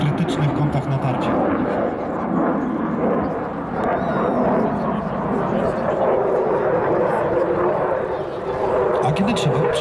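A Su-27 Flanker fighter jet accelerates at the Aerobaltic 2019 air show in Gdynia, its loud, steady broadband roar filling the whole stretch, with an announcer's voice heard over the engine noise.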